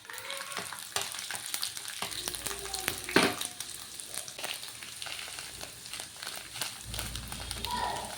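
Onions, mustard seeds, curry leaves and cumin fry in hot oil in a pan for a tempering, a steady close sizzle with crackling pops and occasional spoon scrapes throughout.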